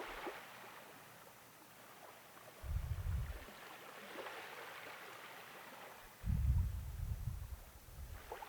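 Ocean waves wash steadily onto a shore, with two deeper, louder surges rolling in over a constant hiss of surf; no voices.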